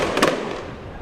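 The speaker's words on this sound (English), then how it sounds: "Every time there's a goal for the Philippines, they launch fireworks." A single close, loud burst of fireworks launched at a football match, a sharp crackling blast that quickly fades into crowd noise.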